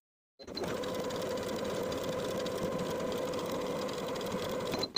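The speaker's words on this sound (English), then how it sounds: "Edge stitch along the finishing stitches from top to bottom." A sewing machine runs an edge stitch down a dress front skirt piece, one steady unbroken whir from start to finish with a brief clunk as it stops.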